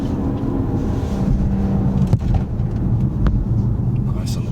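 A 3-litre car driving in sport mode, a continuous low engine and road rumble from inside the cabin with a voice talking over it.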